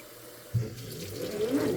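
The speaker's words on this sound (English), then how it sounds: "I'm going to turn the faucet off." Kitchen faucet running water into a sink, a steady close rush that swells from about half a second in and keeps flowing, with a slight rising tone as the basin fills.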